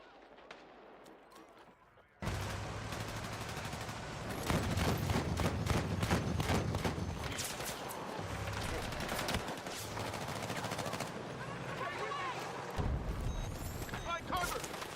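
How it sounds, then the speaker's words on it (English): Airburst launcher and other gunfire in a video game, dense rapid bursts of loud shots and booms that carry on without a break, with voices talking underneath. "So my airburst launcher didn't hit any of them there"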